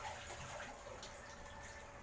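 Leftover bathwater poured into a bucket gives a soft, continuous splashing rush, faint and steady throughout.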